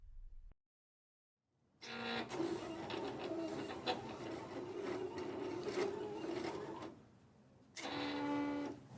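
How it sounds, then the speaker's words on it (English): A Silhouette Cameo cutting machine runs steadily, its motor whirring and the carriage buzzing back and forth while cutting card pieces, pausing briefly before starting another pass; close and moderately loud. "So I've cut out all of these different pieces with my Cameo machine"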